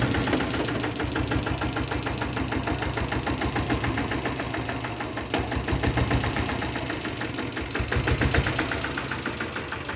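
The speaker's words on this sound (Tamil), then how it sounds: "வண்டி ஸ்டார்ட் பண்ணி காட்டுறேன் பாருங்கள்." A Royal Enfield diesel Bullet motorcycle engine runs at idle, a loud, steady low thumping knock with rapid even pulses continuing close by without pause.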